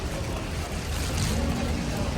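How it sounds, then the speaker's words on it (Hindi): Heavy rain pours steadily while a motorbike is ridden through a rainy day in Lahore, a dense continuous broadband wash with low rumbling, close and loud throughout. "बारिश ज़्यादा ही तेज़ हो गई है"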